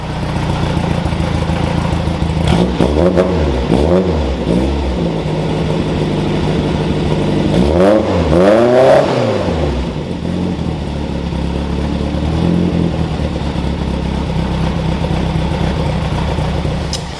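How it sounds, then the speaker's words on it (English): A classic car's small V4 engine with side exit exhaust idles with a lumpy burble, then revs up sharply twice in quick bursts before settling back to a throaty idle, loud and close. "V4, side exit exhaust, absolutely great noise, quick car."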